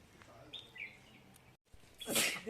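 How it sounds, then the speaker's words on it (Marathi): Faint, brief bird chirps in a Ratnagiri village rise over quiet ambience, then a louder close rustle near the end. "मस्त पक्ष्यांचे आवाज"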